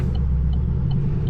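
A straight-piped Camaro SS engine idles with a deep, loud, continuous rumble, close by and steady throughout with no talking.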